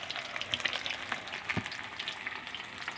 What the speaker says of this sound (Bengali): দই পেঁয়াজা করতে হলে আগে তেলের ভিতর ভাজি করতে হয় মাছকে